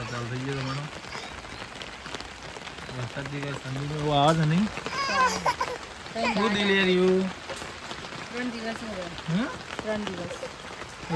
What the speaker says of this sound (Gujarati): વરસાદ આવવા માંડ્યો